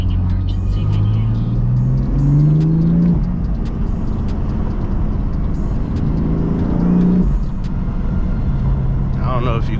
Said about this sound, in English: I don't know if you guys can hear that turbo noise or not